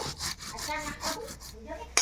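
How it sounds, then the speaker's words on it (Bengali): Cumin is ground by hand on a traditional grinding stone (shil nora), a soft rhythmic rubbing and scraping in short repeated strokes, close and quiet, ending with a small sharp knock. "এই যে জিরা বাটাবাটি চলছে এখন।"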